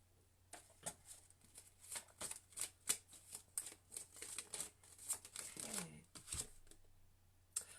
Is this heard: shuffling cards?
yes